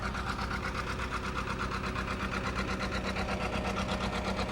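A steady, low engine of a 1939 John Deere D tractor chugs and throbs continuously with an even mechanical rhythm at a fall fair parade, fairly close and without talk.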